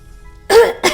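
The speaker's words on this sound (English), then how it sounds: "which quickly descended into a cough." A throaty chuckle breaking into a rough cough, close and fairly loud, in two quick bursts after a quiet start.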